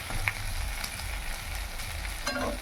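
Fuchka frying in oil that is not deep, with a steady close crackling sizzle throughout and faint clicks of a utensil.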